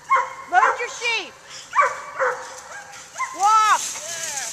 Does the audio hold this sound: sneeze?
no